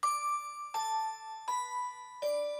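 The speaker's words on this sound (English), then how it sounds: "Chimes." Four bright chime tones ring one after another at a steady pace, each struck clearly and then left to ring out, with no other sound behind them.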